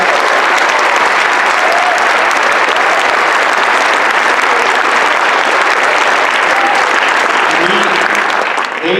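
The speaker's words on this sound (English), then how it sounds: "Let's give them a huge round of applause." Loud, dense applause from a concert audience for a middle school band and orchestra of nearly 100 students, sustained clapping filling the hall steadily from start to finish.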